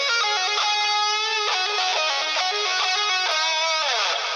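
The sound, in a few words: electric guitar lead lick, pentatonic walk down, hammer-ons, pull-offs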